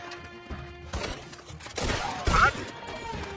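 Gunshots crack in Red Dead Redemption 2 during a shootout, a few scattered reports building to a heavy blast near the end, moderately loud over ambient game sound.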